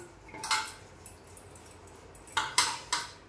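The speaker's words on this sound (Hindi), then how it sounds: "तो वो खाली करके उसके बर्तन धो देती हूँ।" Steel dishes, utensils and emptied curry pots clank in a home kitchen while being washed, with one clatter early on and three sharp knocks near the end over quiet background noise.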